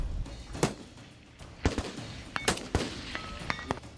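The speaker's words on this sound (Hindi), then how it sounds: "पुतिन ने गोलियां बरसाई" A series of sharp rifle shots cracks out at irregular intervals, loud and fairly close, with a dull background rumble between the reports.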